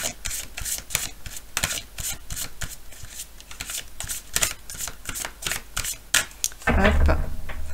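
Oracle cards are shuffled by hand before one is drawn, giving a quick run of close, rhythmic papery riffles and slaps that ends in a louder, denser rustle.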